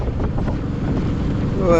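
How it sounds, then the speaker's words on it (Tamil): Steady, heavy wind roar buffets the microphone while riding a Royal Enfield motorcycle on a cold, dry, high-altitude road toward Ladakh, a continuous loud rumble with no pauses. "நல்லா காற்றும் நல்லா செமையாக அடிக்குது வண்டி ஓட்டும் போது உங்களுக்கு தெரியும் இதோட காற்றோட இது சவுண்டு க்ளீனாக தெரியும் பாருங்கள்"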